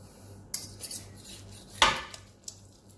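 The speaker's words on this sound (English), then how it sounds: "So I'm going to cut into this." Knife and fork cutting into traditional Cypriot kleftiko cooked with garlic, Greek wine and olive oil, giving a few sharp metallic scrapes and clicks against the plate, one louder scrape in the middle, close by with no talk.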